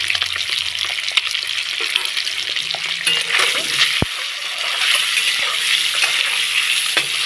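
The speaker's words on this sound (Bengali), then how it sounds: "এখন সেদ্ধ করে ছাড়িয়ে রাখা ডিমগুলো ফ্রাই করে নেব একটু নুন হলুদ দিয়ে" Peeled boiled eggs fry in oil with a little salt and turmeric for an egg and carrot curry, giving a loud, steady close sizzle with occasional stirring scrapes and a sharp clink midway.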